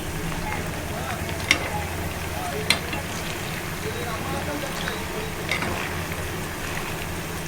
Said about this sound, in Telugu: స్లోగా ఫ్రై అవ్వాలండి.